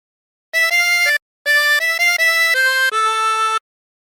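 A 20-hole tremolo harmonica plays a short phrase of the Wellerman sea shanty, sustained wavering reedy notes in a stepwise run with one brief gap, clear and close with no voices.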